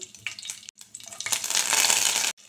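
Cumin, mustard seeds and curry leaves hitting hot oil in a pan, crackling and spitting in a short burst, then a dense, loud sizzle that cuts off abruptly.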